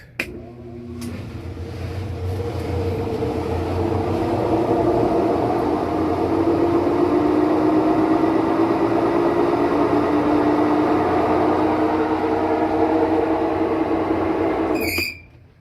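A Maytag washer spins up at very high RPM with a towel bunched on one side to load it off balance. It gives a loud, steady mechanical roar and hum that climbs gradually in pitch for about fourteen seconds, then stops abruptly. No one speaks.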